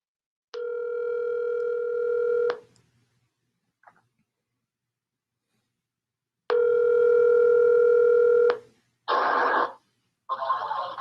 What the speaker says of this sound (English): Better yet, let me just call them.